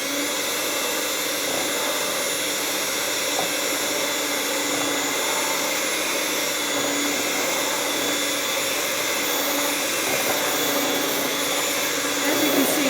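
An electric mixer whirs steadily through thick peanut butter icing, a loud constant motor drone that holds without a break from start to finish.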